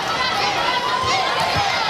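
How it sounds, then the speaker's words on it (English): Arena crowd murmuring and shouting at a Hawaii versus San Diego State women's volleyball match in the Stan Sheriff Center, a steady moderate roar of many voices that continues throughout. "The crowd here at the Stan Sheriff Center getting a little impatient here"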